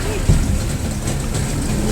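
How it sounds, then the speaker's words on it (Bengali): A speedboat heading out to Rose Island sets off with a steady, low engine rumble mixed with wind buffeting, the drone holding evenly throughout. "বোট স্টার্ট করে দিল এখন"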